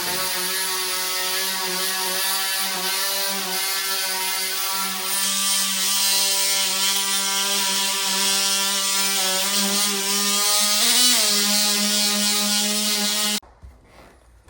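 An oscillating multi-function tool cuts through sheetrock during an electric car charger installation, giving a steady, loud, high-pitched buzzing drone that wavers slightly in pitch for about thirteen seconds before stopping abruptly.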